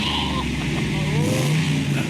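A car engine revs steadily and loudly up close, a continuous rumbling roar with slight rises in pitch, and a voice talks faintly underneath.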